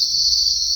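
Crickets at an Indonesian cricket farm with rows of breeding boxes give a steady, continuous high-pitched trill, loud and unbroken throughout with no talking.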